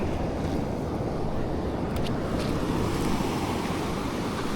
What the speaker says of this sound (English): just watch those waves there. That was a big wave.